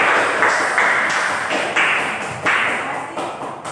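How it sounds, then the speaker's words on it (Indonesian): Audience applause for a participant at a gathering, steady dense clapping throughout with a few louder surges, fairly close and with no talking over it. "Oleh sebab itu kita wajib memberikan dia aplaus"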